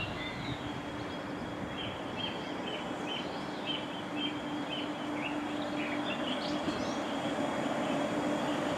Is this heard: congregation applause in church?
no